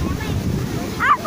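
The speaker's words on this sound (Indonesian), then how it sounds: "dasarnya ombak pantai selatan." South-coast ocean surf at Tambak Rejo beach in south Blitar, a low rumbling wash buffeted by wind noise on the microphone, with a brief voice rising near the end.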